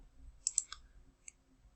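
A computer mouse clicks on a map application, a few short sharp clicks in a quick cluster followed by one more a moment later, close and faint against near silence.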